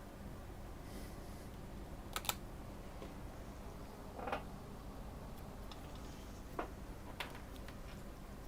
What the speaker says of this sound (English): I've got to use the keyboard